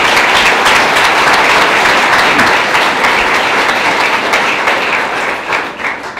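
A town hall audience in Thunder Bay, Ontario breaks into loud, dense applause that holds steady for several seconds, then thins and fades toward the end.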